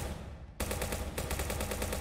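Rapid gunfire from a pistol at a high-tech shooting range in the video game Prison Simulator, loud and sustained in quick successive bursts that start abruptly after a faint ambient lull.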